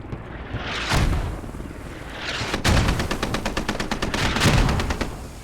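Mortar rounds and gunfire in a Squad battle, with a couple of heavy booming impacts around one and two and a half seconds and rapid repeated shots or blasts toward the end, loud and continuous with no talk.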